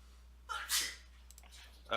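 A single person sneezes sharply and fairly close, a quick inhale followed by a burst, with faint breathing and room noise after during a tabletop game session.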